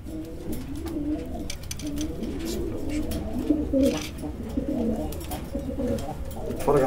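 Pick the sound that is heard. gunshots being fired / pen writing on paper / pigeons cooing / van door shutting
pigeons cooing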